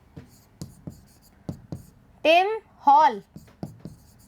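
Pen strokes tap and scratch in short, regular bursts as a teacher writes notes, close and crisp, with the teacher speaking briefly in the middle.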